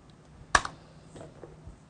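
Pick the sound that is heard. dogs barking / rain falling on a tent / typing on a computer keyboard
typing on a computer keyboard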